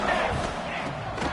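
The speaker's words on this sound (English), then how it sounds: "they are on their feet, yelling, screaming" A stadium crowd in the NCAA 25 college football video game roars and yells in a dense, continuous wash of noise, loud and unbroken for a short moment.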